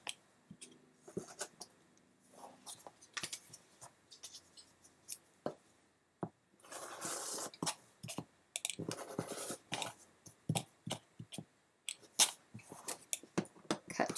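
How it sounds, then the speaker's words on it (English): A quilt template being cut from fabric, with soft, irregular snips and scratchy cutting strokes close by and fairly quiet, in clustered bursts and no talking. "So I'll cut 1 template here"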